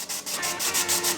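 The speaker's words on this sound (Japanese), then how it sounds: "塗装するものに対してサンドペーパーでこうやって表面を研ぎます" Sandpaper scuffing a surface before painting, making a close, rhythmic rasp of about six quick back-and-forth strokes.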